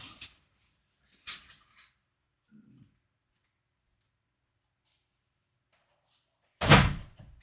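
A few faint shuffles and bumps, then a single loud, sharp thud as a workshop door is shut firmly, followed by quiet.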